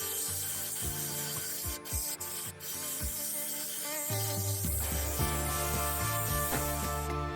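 Sandpaper rubbing against an ash and resin segmented bowl spinning on a wood lathe, with grits running from coarse to very fine; a steady close hiss and rasp overlaid on the lathe's drone, with a few sharp knocks.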